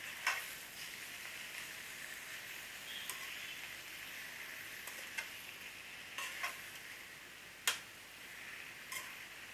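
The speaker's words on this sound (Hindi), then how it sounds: "अभी मैं अच्छे से मिक्स करेंगे प्याज लहसुन का साथ साग को" Moringa leaves being stirred with onion and garlic in a pan: a quiet, steady sizzle punctuated by sharp scraping clicks of the spoon every second or two.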